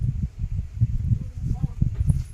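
Strong wind gusting through trees on a temple circuit path near a lake at Valli Malai, Vellore, with low buffeting rumbles and rustling swells coming in uneven bursts.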